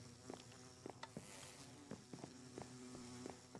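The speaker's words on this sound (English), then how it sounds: "The bees are still here." Buzzing bees swarm around a hive in Minecraft, a steady, fairly faint insect drone with short repeated game sound blips pulsing over it, no voices.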